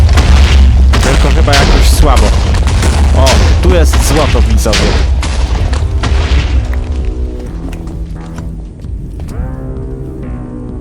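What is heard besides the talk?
TNT explosions in Minecraft, a video game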